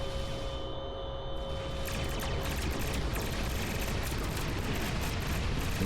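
Starship weapons firing at Klingon ships in Star Trek Online, a dense, continuous roar of blasts and rumbling impacts that builds after the first second and stays loud throughout.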